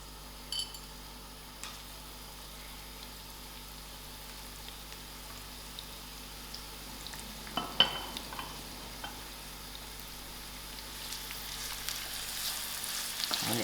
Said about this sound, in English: I'll allow those onions to fry